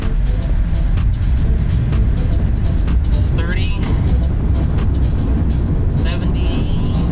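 A Tesla electric car accelerates hard from a standstill toward 60 mph on a slight uphill, with a steady loud rush of road and wind noise building around the cabin while someone speaks briefly.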